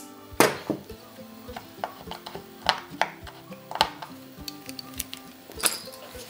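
Knife cutting through biscuit dough on a board, a series of irregular sharp close taps and clicks with quieter scraping between them, no talking.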